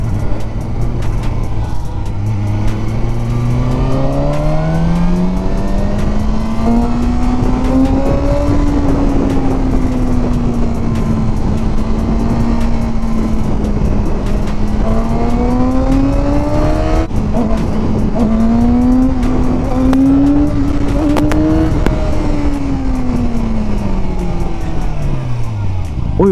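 A 2024 KOVE 450RR four-cylinder motorcycle pulls hard through the gears, its engine note climbing, dropping briefly at each shift and climbing again, loud and close over steady wind rush, with a rider's voice talking at times.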